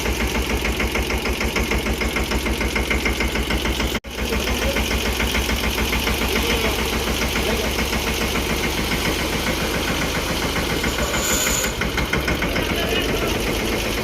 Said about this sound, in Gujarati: ટ્રેક્ટર ઠલવાય છે મિત્રો ઘરે આપણા